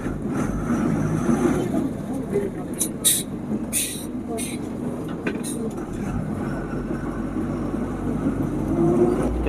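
An ordinary bus leaving Sangla on a narrow Himalayan mountain road gives a steady engine rumble and road noise throughout, with brief rattles and clatters. Voices are heard faintly over it.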